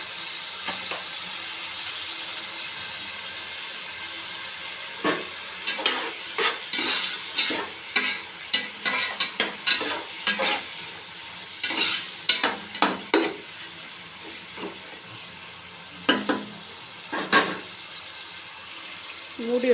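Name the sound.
tomatoes sautéing in a pan for vegetable biryani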